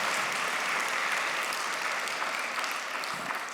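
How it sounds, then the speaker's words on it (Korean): A church congregation applauds its pastor after a sermon, a dense, steady wash of clapping that fills the room and fades slightly toward the end, with no talk over it. "축복 박수할게요."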